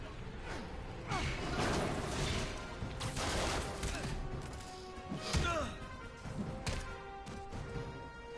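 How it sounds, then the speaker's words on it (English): In Marvel's Spider-Man, gunfire is aimed at Spider-Man as scattered shots, thuds and impacts punctuate a busy fight, fairly faint and mixed with combat effects and occasional voices. "stop shooting at me, I'm allergic to bullets"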